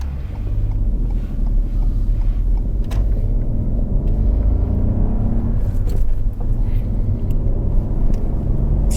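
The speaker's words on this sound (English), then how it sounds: "Darren now has to do a hill start onto a reasonably busy road" A car on a driving test pulls away on a hill start onto a fairly busy road, its engine a low steady rumble with wind buffeting the microphone and passing traffic noise around it.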